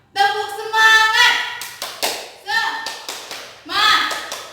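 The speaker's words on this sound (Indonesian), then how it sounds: "mari kita tepuk semangat bersama-sama. Tepuk semangat!" An elementary class performs the rhythmic 'tepuk semangat' spirit clap, sharp bursts of clapping in quick patterned groups mixed with children's loud chanting voices.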